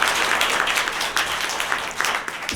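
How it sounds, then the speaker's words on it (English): A conference audience at a women in medicine healthcare panel gives a loud, dense round of applause for the event planners, sustained clapping from many hands close and full throughout. "Can we please first just get a huge round of applause to everybody who went into the planning of this event?"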